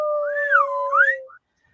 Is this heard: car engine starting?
no